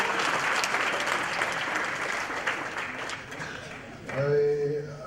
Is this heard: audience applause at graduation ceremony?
yes